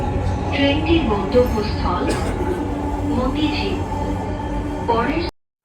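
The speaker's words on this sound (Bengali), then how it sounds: "আমাদের ট্রেন কিন্তু অলরেডি চলে আসতেছে" A metro train pulls into a station, a steady rumble and hum of rail noise with brief high squeals and hisses throughout, while people talk nearby over it.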